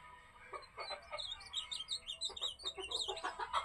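A blue grosbeak (azulão), a kept songbird, sings close by in a series of quick, high, warbling phrases that rise and fall in bursts over a quiet background.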